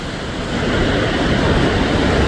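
Water pours from a dam in a loud continuous rushing roar, broadband and unbroken, heard outdoors close by with no voices.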